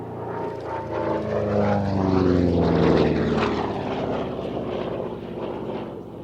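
A Republic P-47 Thunderbolt fighter flies past at an airshow, its loud piston engine and propeller drone swelling as it nears, peaking, then falling in pitch as it moves away.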